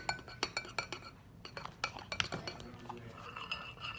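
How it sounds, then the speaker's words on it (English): A spoon clinks against a bowl while coloring is stirred into homemade soap slime: quick, close, uneven light taps and scrapes in a quiet room. "I'm gonna start mixing the coloring."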